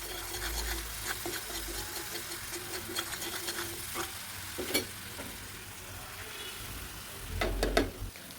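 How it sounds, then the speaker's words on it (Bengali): Grated coconut, left over after its milk was squeezed out, stirred and scraped in a hot pan for a fried coconut fish bait, with steady sizzling and repeated spoon scrapes and a few louder clatters near the end. "নারকেলগুলো দিয়ে দেওয়ার পর এভাবে ভালোভাবে নাড়তে থাকবো"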